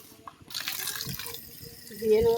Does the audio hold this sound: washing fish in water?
yes